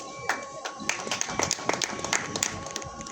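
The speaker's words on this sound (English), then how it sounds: "I want to applaud you people" Crowd at a political party meeting claps steadily, a dense patter of hands continuing throughout at moderate distance.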